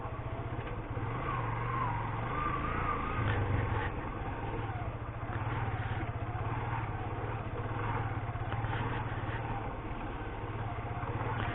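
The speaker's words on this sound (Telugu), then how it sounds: "ముందు చూడొచ్చు లారీలు పాపం చాలా కష్టపడి వెళ్తున్నారు." Lorries labour over a pothole-ridden, waterlogged road near the fourth Godavari bridge, with a continuous low engine drone and rumble close by throughout.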